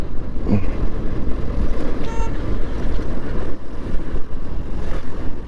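Busy road traffic near Palladam rumbles throughout, with a brief car horn toot early on and engines passing close by.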